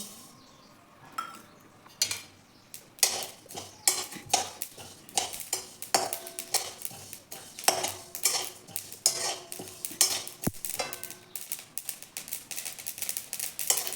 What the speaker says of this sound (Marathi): आता तीळ भाजून घेऊ